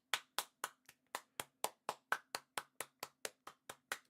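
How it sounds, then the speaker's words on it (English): A single person claps by hand for a departing football player during a La Liga match watchalong, about sixteen sharp close claps in a steady, even rhythm with no talking. "I'm clapping him off."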